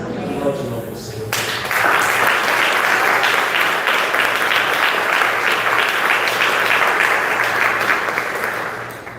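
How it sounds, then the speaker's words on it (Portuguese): A church congregation at a communion service breaks into loud, sustained applause after a short spoken lead-in, the dense clapping holding steady for about eight seconds. "Aplaude o nome do Senhor."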